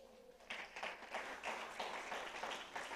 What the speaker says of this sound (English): Let's clap for Jesus.